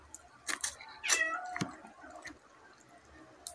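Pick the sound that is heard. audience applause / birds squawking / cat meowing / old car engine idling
cat meowing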